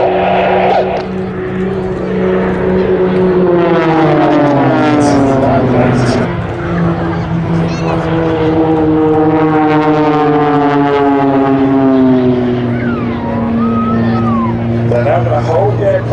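Display team jets roar loudly overhead at the Duxford Summer Air Show, racing toward the crowd at full speed in staggered formation, a steady engine drone with sliding pitch that shifts as the aircraft pass close by.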